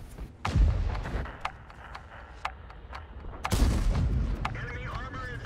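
Two heavy tank cannon shots boom in World of Tanks, one early and one midway, each with a deep rolling thud over battlefield rumble and scattered sharper cracks.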